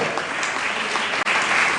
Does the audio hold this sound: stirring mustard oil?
no